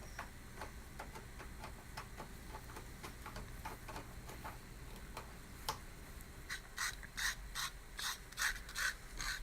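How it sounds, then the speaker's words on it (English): The hair side of a leather piece for a knife sheath is roughened with rapid, rhythmic rasping strokes, faint at first and then louder and more spaced toward the end, with no talking. "I'm roughing up the hair side of the leather so that the wood glue will stick to it a little better"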